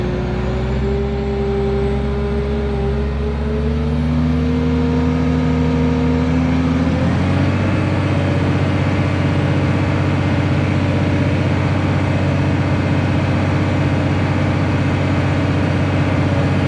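A pickup truck's engine revs hard and holds a loud, sustained roar while straining to pull a plow, its pitch dipping and then settling into a heavy, steady drone.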